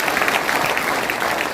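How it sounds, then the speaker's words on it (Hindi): Audience applause at a welfare association's Ambedkar birth anniversary celebration, a steady dense wash of clapping filling the whole short stretch at moderate loudness with no talk over it. "जोरदार तालियों से उनका भी सम्मान करें।"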